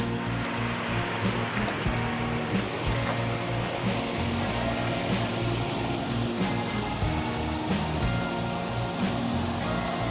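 A stream flows beside a campsite at Lam Takhong in Khao Yai National Park, a continuous broadband rush of water that holds steady and close, heard alone without talk.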